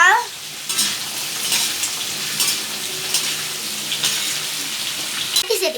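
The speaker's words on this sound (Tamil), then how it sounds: "மாங்காய் சேர்த்தாச்சு. நல்லா வதக்கி விட்டுக்கலாம்." Raw mango pieces sauté in a pan as a pachidi is cooked, making a loud, continuous hiss and crackle broken by repeated scraping stirs, with no one talking.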